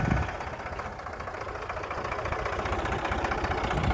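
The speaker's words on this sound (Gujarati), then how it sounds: "મારા આ કનુભાઈ દરબારનો ટ્રેક્ટર છે" A tractor engine runs steadily in a field while millet and sorghum are sown, a dense low rumble with a knocking vibration that holds evenly throughout.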